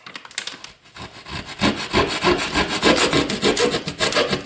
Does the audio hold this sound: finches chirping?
no